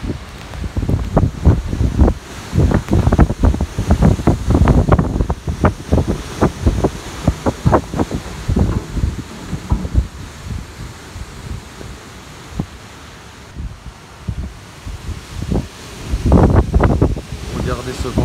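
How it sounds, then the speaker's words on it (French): Strong, gusty wind from a night thunderstorm in Lyon buffets the microphone in heavy bursts, roaring and rushing, with a voice speaking briefly amid the storm noise. "Regardez ce vent fort là."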